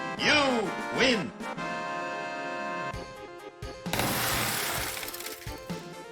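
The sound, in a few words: bag of money smashing through car wash window, video game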